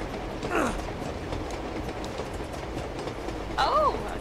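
A train runs along the rails in the video game Uncharted 2, giving a steady rumbling rattle with brief metallic wheel squeals near the start and end, under faint background talk.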